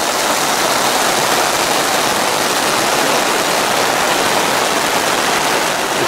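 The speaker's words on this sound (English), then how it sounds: "how much rain was coming down" Dense, steady hiss of heavy rain pounding a 10-person tent nearby, continuous and loud with no pauses or voices.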